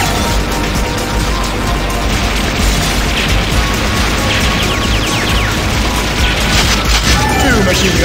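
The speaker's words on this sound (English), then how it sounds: "Machine guns." Rapid, dense machine gun fire in the arcade game Metal Slug 6, with continuous loud clatter mixed with explosions and booms, and some talk layered over it.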